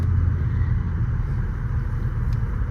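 A Mercedes C32 AMG V6 with a custom 3-inch exhaust and cat delete idles steadily, a deep, constant low rumble with a slight tinny edge, close and loud throughout.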